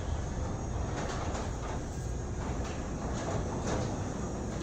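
A wall-mounted garage door opener raises the door with a steady, loud mechanical rumble and whir that runs continuously throughout, with faint rattling pulses from the moving door.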